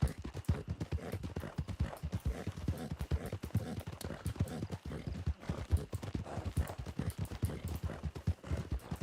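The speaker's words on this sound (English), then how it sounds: "I'm gonna run up here and knock him off that horse" Horse hooves clip-clop in rapid, steady rhythm in the video game Red Dead Redemption (RedM), close and prominent, as a horse moves at a quick gait throughout.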